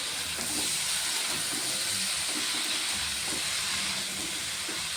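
Spinach simmering in a masala gravy in a pan gives a continuous loud hiss with a soft bubbling undertone, steady and close, with no voices.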